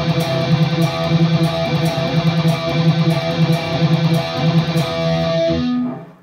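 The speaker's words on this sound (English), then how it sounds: "And then when I add in the alternate picking and palm muting, it's going to sound like this." A heavily distorted electric guitar plays a metal power-chord riff with fast alternate picking and palm muting, giving a chugging, pulsing rhythm that holds loud and steady before it stops near the end.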